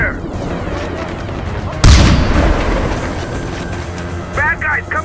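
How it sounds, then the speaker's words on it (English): Heavy gunfire in Far Cry 4 erupts in a loud, sudden blast about two seconds in and rolls on as sustained firing and rumble, with game sounds continuing around it. "I'm taking fire!"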